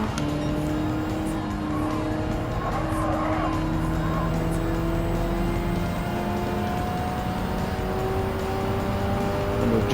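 Race cars in Gran Turismo 7 drone past at speed, several engines layering steady high-pitched whines with shifting pitch, loud and continuous with no talking.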